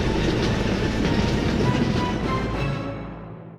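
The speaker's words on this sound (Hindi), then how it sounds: "तभी ट्रेन चंपकला स्टेशन पर आकर खड़ी हो जाती है।" A train rumbles steadily with clattering wheels as it pulls into a station, loud and close throughout, then fades out at the end.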